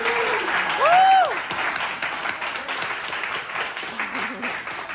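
Audience applause at a charity event, steady clapping running under a short whistle-like tone early on, with the crowd noise holding at a moderate level throughout.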